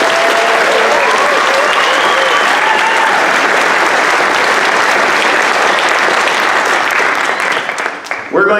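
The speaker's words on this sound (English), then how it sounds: "How about one more round of applause for these kids?" At a songwriting concert, the audience claps for the kids who performed, a loud, dense, steady burst of applause with faint cheering that ends abruptly.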